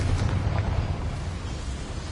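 A Confringo fire spell bursts in Hogwarts Legacy on PS5, giving a rumbling, eruption-like blast that decays into a steady low roar over about two seconds.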